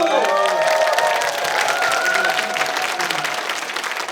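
An audience at a talk show event, Yongin Sunshine Talk, claps and cheers loudly, a dense, continuous patter of applause that fades slightly toward the end, with voices mixed into it.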